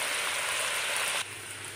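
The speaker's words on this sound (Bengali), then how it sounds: "মুরগিটা দিয়ে দিলাম আমি তেলের মধ্যে ফ্রাই করে নিচ্ছি" Chicken fries in oil with a loud, dense, close sizzle that drops abruptly to a quieter hiss partway through.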